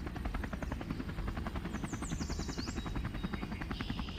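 A helicopter's rotor chops rapidly and evenly, a loud steady whirring beat with a high whine riding above it.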